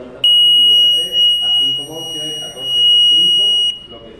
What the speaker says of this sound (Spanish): Para ello quitaremos el cable H para que suene el zumbador.